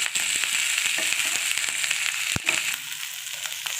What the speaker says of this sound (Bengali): হালকা ব্রাউন মতো ভেজে নেব।